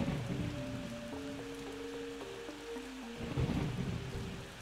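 Steady rain hisses through a Plants vs Zombies night level while a low thunder rumble builds near the end, and a simple game melody plays over it without talk.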